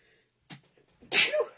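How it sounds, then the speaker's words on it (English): A single loud, sharp sneeze, preceded by a quick breathy inhale a moment earlier, with near silence around it. "pardon me, sneeze."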